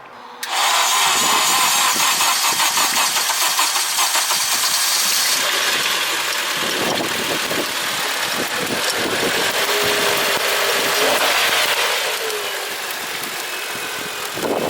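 A Honda Civic engine cranks and catches, then settles into a steady, loud rumbling idle that continues at close range.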